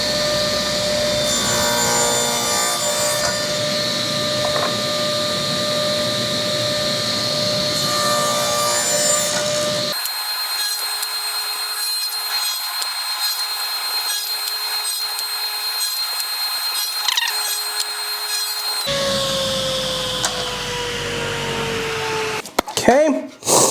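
A saw cuts wood segments for a segmented woodturning ring, making a loud, continuous whining rasp that runs in long passes with brief shifts in pitch, close by and with no voices.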